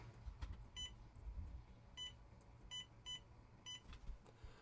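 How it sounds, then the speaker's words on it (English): An RC car remote control beeping as its trim reaches center, on an FCX10 K5 crawler setup: several short, faint electronic beeps spaced irregularly, some doubled, over a quiet background. "You have an audible beep at your trim on this guy."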